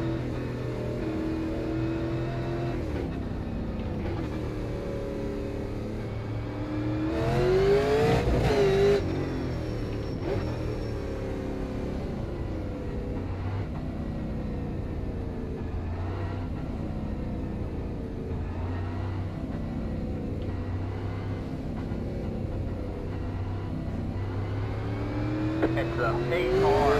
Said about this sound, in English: It's the pace car.